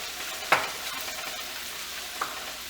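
Butter melting and sizzling in a pan while a mac and cheese is prepared, a steady soft frying hiss with two sharp stirring scrapes of a utensil against the pan.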